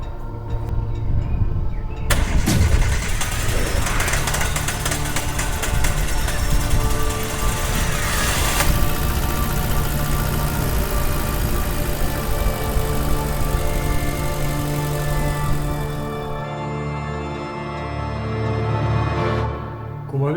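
A Chevrolet Matiz engine, its fuel injectors just refitted and the injector rail drained of petrol, cranks and catches, then runs with a loud, steady idle close by for most of the stretch before dropping away near the end.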